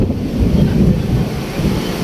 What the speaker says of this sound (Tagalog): halos tangayin na yung payong sa lakas ng hangin.